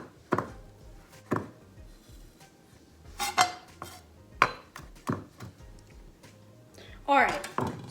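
A knife mincing parsley on a cutting board while cooking steak and cheesy garlic bread: irregular sharp taps and chops, mixed with some clattering of kitchenware, close and fairly loud.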